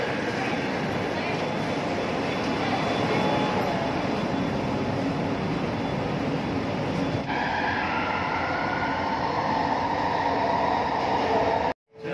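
A metro train pulls into KLCC station in Kuala Lumpur, heard from inside as a steady loud rumble and whine of wheels and motors that shifts as it slows, then cuts off abruptly at the end.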